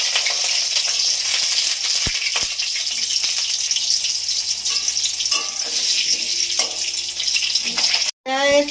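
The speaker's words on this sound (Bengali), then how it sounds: "তেল গরম হয়ে গেছে আলুগুলো ভেজে নিচ্ছি" Potatoes fry in hot oil for a crab and potato curry, a loud, dense crackling sizzle throughout with faint stirring and a brief cutoff near the end.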